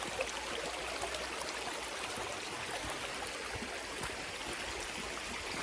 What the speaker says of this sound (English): it's created a river, like a little tiny stream